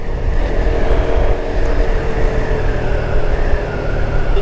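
A Shineray Storm 200 motorcycle engine droning loud and steady while riding in sixth gear, with constant wind rush over the engine note.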